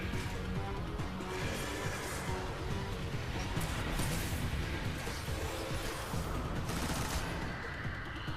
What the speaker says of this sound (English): we were able to take his shield off super easily with the machine gun